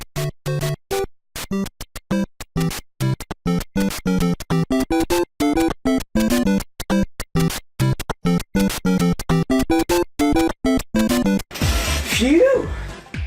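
Chiptune soundtrack from a retro third-generation video game console with all sound channels combined, choppy square-wave melody and bass over rapid percussive bursts, ending in a noisy swirl.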